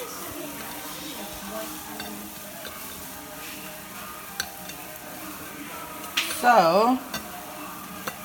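Meatballs fry in sauce in a pan with a steady, soft sizzle, then a short burst of close scraping and stirring near the end, with a brief spoken word.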